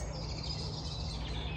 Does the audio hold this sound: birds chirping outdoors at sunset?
yes